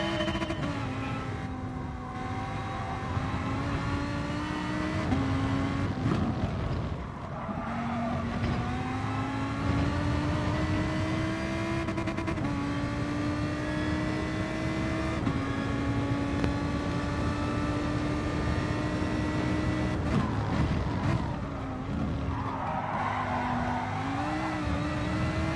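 Lamborghini race car engine in a racing video game, a loud, continuous roar with rising pitch through the gears, sharp drops at shifts and braking, and several climbs back up.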